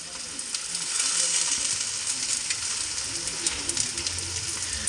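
Egg khagina, a Hyderabadi scrambled egg dish, fries in a pan with a steady, soft sizzle that crackles lightly throughout. The sound is close but quiet, with no voices.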